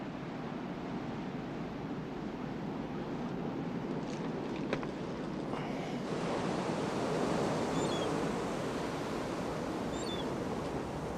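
Ocean surf washes steadily onto a beach, a broad continuous roar of breaking waves with wind buffeting the microphone, no voices.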